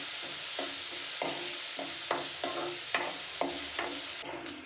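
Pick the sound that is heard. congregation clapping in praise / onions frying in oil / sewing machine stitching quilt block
onions frying in oil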